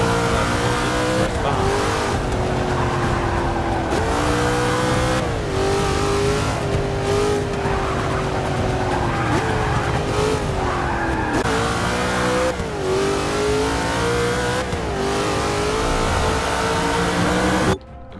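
Race car engines in Forza 6 rev hard and loud throughout, with repeated gear shifts, rising and falling pitch and occasional tire squeal, close and continuous with no talk.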